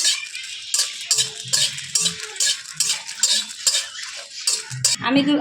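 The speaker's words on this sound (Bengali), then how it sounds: "আমি এই যে শুকনো লঙ্কাগুলো আগে দিয়ে দেবো কড়াইতে, দিয়ে একটু নাড়াচাড়া করে নেবো।" Dry red chillies are stirred in a hot metal wok, a rapid series of sharp scraping and clanking strikes of a spatula against the pan, close and loud, with a faint sizzle near the end.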